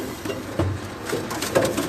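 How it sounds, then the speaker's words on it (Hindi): Misa pigeons coo in a loft, a few soft throaty calls rising out of a busy background of shuffling and rustling, fairly close. "मिसा कबूतर है जी।"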